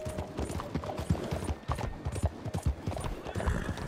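Horse hooves clip-clop in Red Dead Redemption 2, a quick irregular run of close, fairly loud hoofbeats continuing throughout with no voices.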